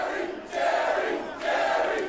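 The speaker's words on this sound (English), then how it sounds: "Listen to the crowd." Wrestling crowd at a TNA Asylum event chanting in two loud rising waves, a dense roar of many voices filling the hall.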